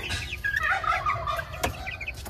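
Meat chickens in an outdoor brooder cluck and chirp close by, a busy, continuous flock chatter with a few sharper calls rising above it.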